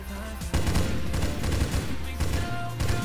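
Rapid bursts of gunfire from a mobile zombie shooter set in a tunnel, dense and continuous with overlapping shots and thumping impacts, loud and close, no talk.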